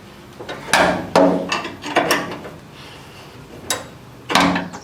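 A wrench ratcheting on a stiff bolt, still tight after WD-40, on the rear leaf spring of a C10 truck, heard as sharp clicking bursts in irregular groups, loud and close, with no speech.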